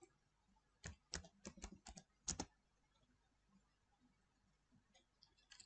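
Quick bursts of typing on a computer keyboard, two clusters of crisp key clicks close to the mic, then quiet room tone with a few faint taps.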